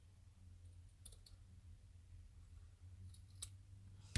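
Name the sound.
cutting material while decorating a box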